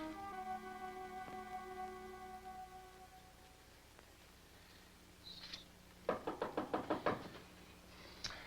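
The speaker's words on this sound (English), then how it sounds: "Come in. I can't. The door's locked." A knock series of about six sharp raps lands on a door in a 1950s sci-fi horror film. It comes near and fairly loud after a quieter stretch with a low hum and faint tones.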